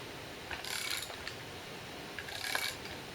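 Two short, faint ratcheting clicks and rubs come from a nut being tightened onto a string trimmer brush cutting blade, each burst under a second, with quiet pauses and no talk.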